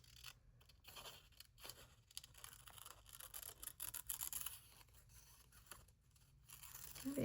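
Scissors cutting a paper picture out for a memory-keeping journal, a close, quiet run of repeated snipping and rasping cuts with a few brief pauses.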